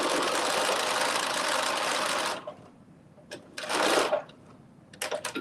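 A home sewing machine runs a basting stitch on a McCall's 8142 garment, a loud continuous whir for about two seconds, then short bursts of stitching start and stop with quiet pauses between.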